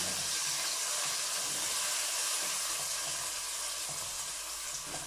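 Already-browned caramelized onions dropped into hot oil let out a loud, hissing sizzle that fills the scene without pause, staying strong and close throughout.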